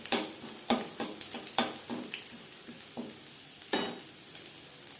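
Whole cumin and dried red chilli frying in hot oil, a steady crackling sizzle punctuated by sharp pops and stirring clicks, close and fairly loud with no voices.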